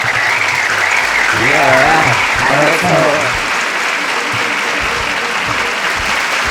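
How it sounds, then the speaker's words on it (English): An audience applauds loudly in a steady, dense wash of clapping with a few cheers, while a voice briefly speaks over it. "Let's get some applause."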